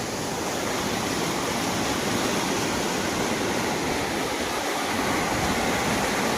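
Floodwater three to four feet deep surges over a road after a night of flooding, a dense, steady broadband rush like a torrent that stays loud and unbroken throughout, with no voices.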